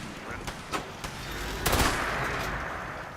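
Turret gunfire in the Fallout 76 video game: a few sharp separate shots early on, then a louder sustained burst of fire that trails off, fairly close and with no talk over it.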